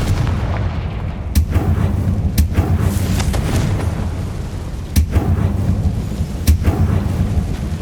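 Fiery blasts from the Confringo spell in Hogwarts Legacy, several sharp booming bursts spaced a second or so apart over a continuous rumbling, crackling battle din, loud and close with no talking.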